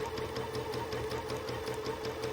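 A domestic sewing machine runs steadily during free motion quilting of a Linus quilt, a continuous close motor hum with a fast, regular needle clatter and no voices.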